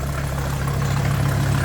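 A Mercedes parts car engine running after sitting overnight, a loud, close, steady low idle hum that stays even throughout.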